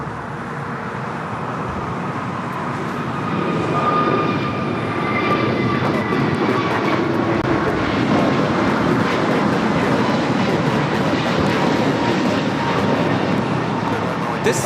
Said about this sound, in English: This is American Airlines 1659 taking off to Dallas-Fort Worth on the A321neo.